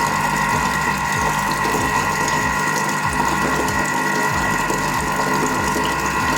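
Stand mixer whipping cream for a strawberry cream layer cake, a steady loud motor whir with a repeating rhythmic mechanical churn, running continuously without pause.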